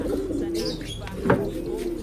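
Pigeons cooing close by, a few soft low throaty calls with a brief sharper note in the middle, over faint background noise.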